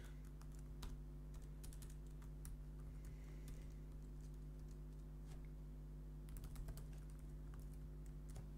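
Code typed on a computer keyboard: soft, quick key clicks in irregular bursts over a steady low hum, with a brief lull before a final flurry of keystrokes.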